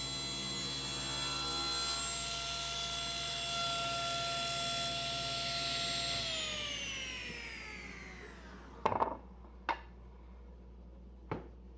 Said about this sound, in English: Now I'm going to rip maybe a 1/2 of an inch off